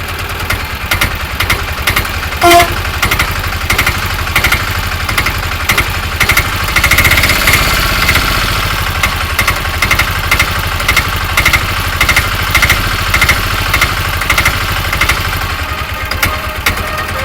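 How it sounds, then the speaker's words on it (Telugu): An auto rickshaw engine idles with a steady, rattling putter, running continuously and fairly loud with no voices. "ఒక ఇంజన్ స్టార్ట్ అయింది"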